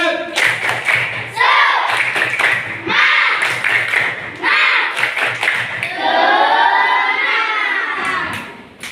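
Children in a classroom lesson perform a tepuk semangat clapping chant, rhythmic bursts of group clapping mixed with loud shouted chanting in short repeated phrases, close and lively.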